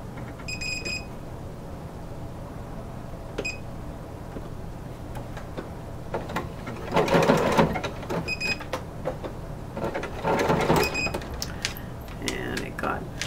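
A sewing machine runs in two short, loud bursts of rapid stitching, working a broken zigzag on a corset bone casing, with quiet gaps and a few beeps and clicks between them.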